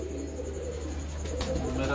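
Domestic pigeons coo softly in the background, a low steady murmur with a few faint chirps, while a voice speaks over it.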